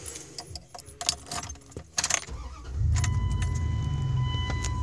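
Keys jingle and click near an ignition, then a 1999 Dodge Ram 1500 pickup engine turns over and settles into a steady low idle that continues to the end.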